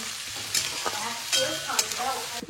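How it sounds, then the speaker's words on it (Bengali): Oil sizzles steadily as four green chillies fry, with several louder crackling bursts and the scrape of stirring, close up and without talk. "দিয়ে দিলাম 4টে কাঁচা লঙ্কা, সব ভাজবো।"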